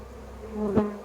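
Honeybees buzz at an open hive during swarm control, a close, steady hum that swells briefly as one bee passes near.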